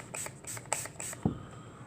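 Four quick, close hisses from a spray bottle spraying cleaner onto gun parts in an even rhythm, followed by a soft thump.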